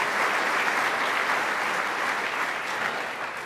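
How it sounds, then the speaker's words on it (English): An audience at a governor's budget announcement in Western New York applauds for Crystal Peoples-Stokes with dense, sustained clapping that stays loud and even, then eases slightly near the end. "Let's give a round of applause to Crystal Peoples-Stokes"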